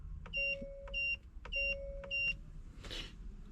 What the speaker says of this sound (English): it will continue flashing and beeping, ready for its new password